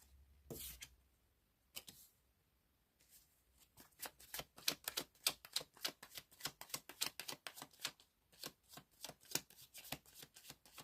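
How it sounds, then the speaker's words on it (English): Tarot cards are shuffled by hand, with a few opening riffles, then a rapid run of soft, close flicks and taps; no talking. "Cards are certainly flying out."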